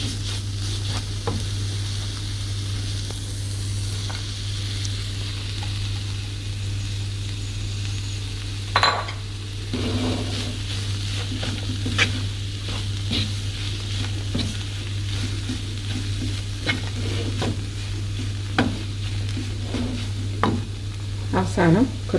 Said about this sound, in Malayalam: നന്നായി മിക്സ് ചെയ്ത് നേരത്തെ വറുത്ത് വെച്ച ചിക്കൻ ചേർത്ത് കൊടുക്കുക